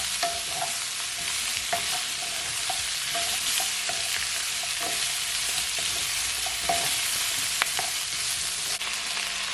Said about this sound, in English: you're just gonna leave it to saute, guys, for at least 20 seconds